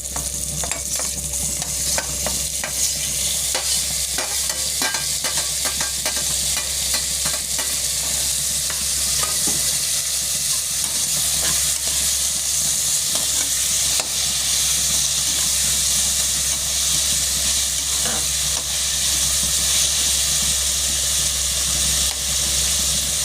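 Tomatoes and vegetables sizzling and frying in a hot pan on the stove, a steady loud hiss with constant stirring scrapes and clicks running throughout, no voices.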